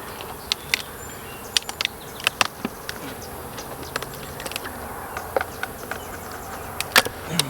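Honey bees buzzing around an open hive during a mite treatment, a continuous close hum dotted with sharp passing buzzes of individual bees flying near.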